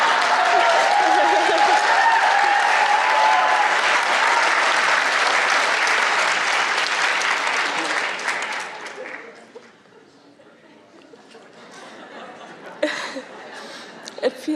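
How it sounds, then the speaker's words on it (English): Audience applause with chuckling at a talk on manifesting financial success: a long, loud, dense ovation that fades out after about nine seconds, then quiet scattered laughter and a few isolated claps. "It feels good to Hear the audience applaud"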